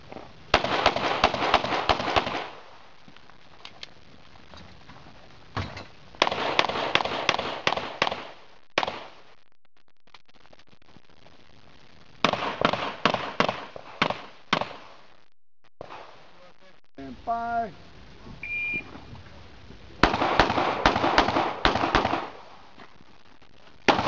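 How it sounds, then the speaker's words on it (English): Rapid strings of gunshots at targets during a practical shooting stage, loud close bursts of fire separated by short quiet pauses, with a few faint beeps and no talking. "then shoot the 3 targets through the door, then shift over to the barrel, and through the barrel, shoot the 3 targets down there"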